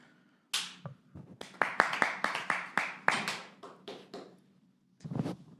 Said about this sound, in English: Give a massive round of applause for my next delightful guest